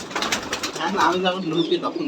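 Giribaj pigeons coo continuously in a loft on a Rajshahi pigeon farm, close and overlapping, with a voice mixed in beneath the calls.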